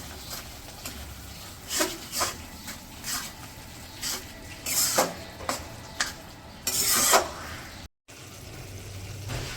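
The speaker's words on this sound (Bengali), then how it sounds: "এখন হচ্ছে মশলাগুলো ভালো করে কষে নেব।" Spices with cumin and cinnamon powder being stirred and fried in a pan for a village-style beef tripe dish, with irregular scraping and rubbing strokes of a spoon, fairly close, alone without talk.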